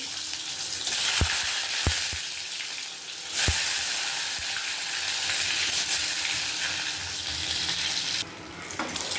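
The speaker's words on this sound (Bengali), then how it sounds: "তেল গরম হয়ে গেছে ডিমটা ভেজে নেব" Lightly salted eggs fry in hot oil with a dense, steady sizzle, close up, broken by a few sharp clicks of a utensil against the pan.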